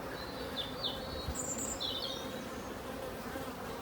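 Steady, close drone of honeybees buzzing in a hive, a dense continuous hum with a few higher whines from bees passing nearby.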